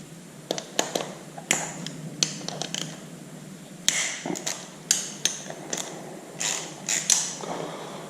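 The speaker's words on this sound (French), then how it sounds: "C'est une douille, une clé 10 pour slacker l'ajustement de la clutch." A 10 mm socket on a ratchet wrench loosens a clutch adjustment, giving repeated quick ratcheting clicks and taps in irregular bursts, close and distinct with no speech.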